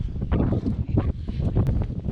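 Gusty wind buffeting a microphone outdoors on a cold, cloudy hillside, low rumbling bursts rising and falling over two seconds, no voices.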